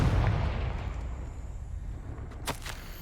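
A Confringo fire spell blasts in the Hogwarts Legacy video game: a deep rumbling impact gives way to a sharp, bright burst near the end, with no talking.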